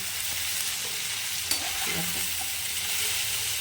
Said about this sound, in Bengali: মশলাগুলোকে খুব একসাথে আলু বেগুনের সাথে খুব ভালো করে আমাকে কষাতে লাগবে।